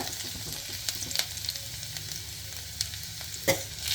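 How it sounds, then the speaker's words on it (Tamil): Garlic sizzles steadily in hot oil in a pan, with a few sharp pops and light clicks over the constant frying hiss. "பேனில் எண்ணெய் விட்டு பூண்டு போட்டுக்கோங்க"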